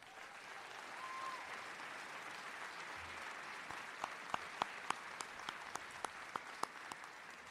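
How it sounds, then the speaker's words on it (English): Graduation ceremony audience at Chester High School applauding, heard as a soft, distant, steady wash of clapping that thins into sharp scattered individual claps toward the end. "Please give a round of applause to the leader of leaders, Edison Gotchhammer."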